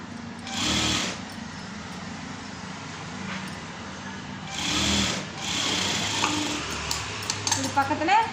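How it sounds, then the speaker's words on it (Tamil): A sewing machine stitching a cross-cut piece of fabric along a guide, short whirring bursts of rapid needle chatter separated by quieter pauses, with light clinks and handling noises nearby. "இது பக்கத்தில் அந்த கைடு ஃபாலோ பண்ணி 2 தையல் போடுங்க."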